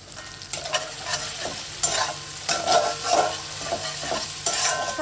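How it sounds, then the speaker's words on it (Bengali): Spices and cumin powder are stirred in a hot pan for spinach ghonto, a spoon scraping in uneven strokes over a light, steady sizzle. "সব মশলা একসাথে নেড়ে চেড়ে নিচ্ছি।"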